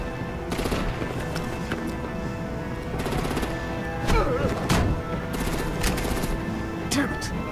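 Gunfire and artillery from the Batman The Enemy Within video game ring out in repeated loud bursts and rapid volleys, mixed with game sound effects and background music.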